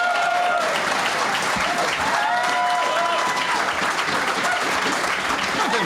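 Sustained, dense audience applause at a Conservative Party of Canada campaign launch for the 2015 federal election, loud and continuous throughout with a few faint voices and whistles mixed into the crowd.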